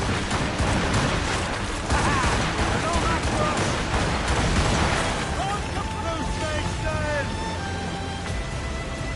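Volley of musket gunfire in the naval action game Assassin's Creed Rogue, a dense barrage of loud cracks over the first five seconds, followed by softer scattered sounds and tonal calls.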